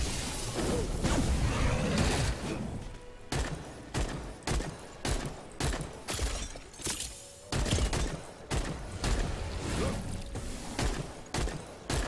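A cannon in the video game Wayfinder fires a rapid series of sharp, punchy blasts, about a dozen evenly spaced bursts following a denser stretch of combat noise at the start.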